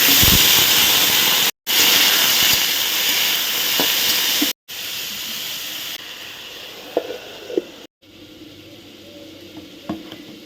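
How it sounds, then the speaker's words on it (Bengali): Potatoes fry in hot oil in a wok, giving a loud, steady close sizzle broken by a few short cuts, with occasional faint clinks of stirring. "ওইদিকে ভাত হচ্ছে আর এদিকে আলু ভাজাটা বসিয়ে দিচ্ছি"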